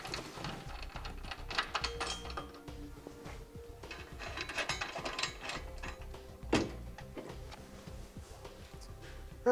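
Nut being threaded by hand onto a bolt while fitting a Curt trailer hitch receiver to a 2016 Ford: faint, irregular metallic clicks and small scrapes with a brief sharper clank partway through, no talking.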